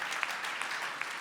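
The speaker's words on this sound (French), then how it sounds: "Oui, on peut applaudir." A crowd at a campaign launch evening applauds in a short, even burst of clapping with a few sharper individual claps.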